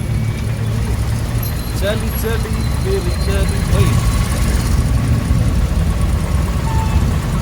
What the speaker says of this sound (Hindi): Currently I am riding with our own Jagdish sir in his vintage Jeep